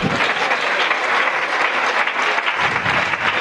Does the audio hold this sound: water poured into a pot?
no